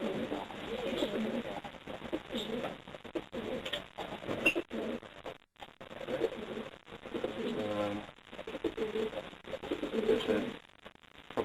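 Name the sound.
racing pigeons cooing in loft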